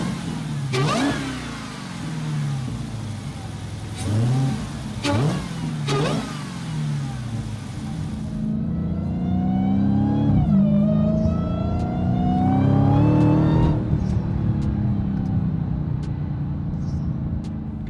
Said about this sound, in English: This is what a supercharger sounds like.